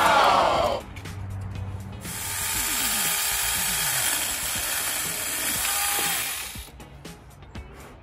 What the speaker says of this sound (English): This mini 4-inch chainsaw is the cat's meow.